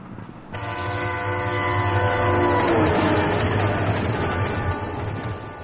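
A train rumbles loudly along a railway with a sustained horn blast, deep steady droning and clattering filling the whole stretch close by, no voices.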